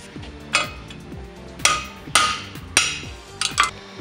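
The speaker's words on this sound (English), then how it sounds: "Cut 4 or 5 of the spot welds off and give it a good hit." A hammer strikes a steel trailer hitch to break its partly cut spot welds free, giving about six sharp, ringing metallic blows at uneven intervals, close and loud with no talk.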